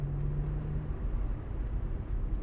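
A 2001 Audi S4 Avant with a six-speed manual gearbox rounds a turn in third gear, giving a steady low engine rumble and road noise from inside the cabin, with a brief hum near the start.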